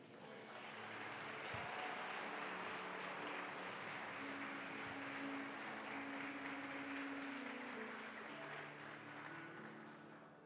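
A church congregation applauds steadily, a broad wash of many hands clapping that stays even for about ten seconds, fairly soft and distant.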